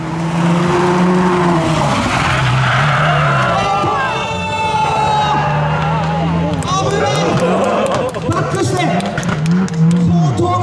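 A Subaru WRX four-wheel-drive turbo rally car launches from the start line of a JN2-class stage at Rally Karatsu, its engine revving hard and loud, then tires squealing as it pulls away, with commentator talk and crowd noise over it.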